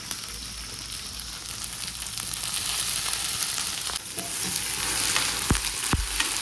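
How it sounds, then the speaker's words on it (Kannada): Okra frying and being stirred in a pan, a soft continuous sizzle with scattered scraping and clinking from the spatula, a couple of sharper knocks near the end, close up and fairly quiet, no talking. "ಈ ಥರ ಫ್ರೈ ಮಾಡ್ಕೋಬೇಕು."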